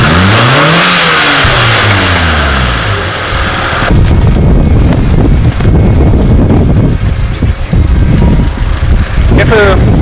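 A petrol car engine revs up as load and speed rise, with a swelling, climbing roar at first, then steady driving noise buffeted by wind across the microphone.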